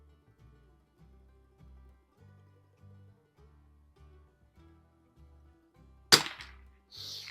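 A 1972 Anschutz Match 54 model 1407 rifle fires one sharp, loud shot at an outdoor range, sounding abruptly over a quiet, softly rumbling background, followed by brief hiss.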